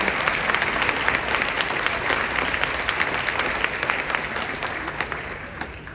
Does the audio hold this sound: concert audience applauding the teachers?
yes